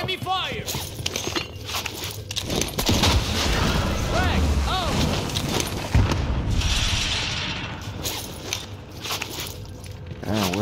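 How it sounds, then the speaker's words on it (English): Gunfire in a battle royale shooter, scattered shots and short bursts ringing out near and far amid running footsteps, partly buried under excited voices of players talking over the action. "Taking enemy fire!"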